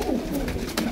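Pigeons coo in a loft, giving soft low throaty coos that repeat twice within a second over a dense, noisy background.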